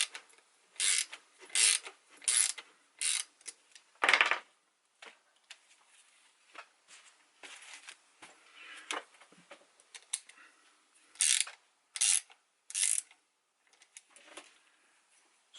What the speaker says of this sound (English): you can then use the washer and the nut provided to actually bring the bolt straight through